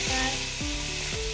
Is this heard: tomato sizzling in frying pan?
yes